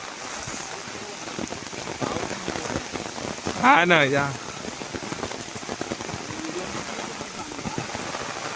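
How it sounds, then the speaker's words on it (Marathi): Heavy rain pours down in a steady, dense patter with a few water splashes, and a person speaks briefly partway through over the downpour. "ते बघा त्याला पाऊस पण खूप आलाय आता जाता जाता"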